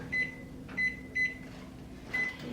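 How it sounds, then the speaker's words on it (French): A microwave oven runs with a low steady hum, broken by four short high beeps at irregular intervals, close and fairly quiet, with no talking. "en ayant mis ça 3 minutes au micro-ondes"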